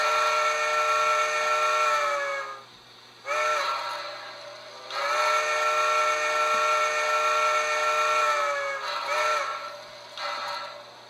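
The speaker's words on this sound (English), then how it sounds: "Short whistle as well on here." A Bachmann Spectrum Pennsylvania Railroad 2-6-0 model steam locomotive's sound system plays steam whistle blasts, two long and two brief toots, clear and loud with no voices.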